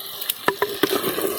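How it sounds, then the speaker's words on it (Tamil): Small shallots frying in a pan for village-style country chicken soup, a quick run of sharp scraping stirs over a soft sizzle, brief and close. "வெங்காயம் நல்லா வதங்கிருச்சு"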